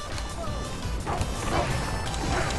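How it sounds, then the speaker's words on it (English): Several barks from dogs in an action video game come in quick bursts over game effects and crashing hits, fairly loud and overlapping with the busy combat noise. "Oh, well, dogs everywhere."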